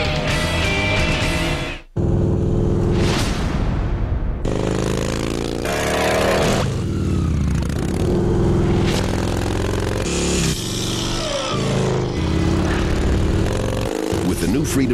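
A 2002 Victory cruiser motorcycle with a Freedom V-twin engine revs loudly and repeatedly, the engine note rising and falling close by, with a voice talking over it.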